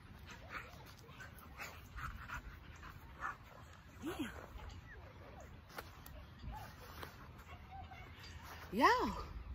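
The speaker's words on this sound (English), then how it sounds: "Controlling two strong pit bulls." Two strong pit bulls whimper and yip outdoors at a state park, with a sharper whining cry near the end, while people talk in the background.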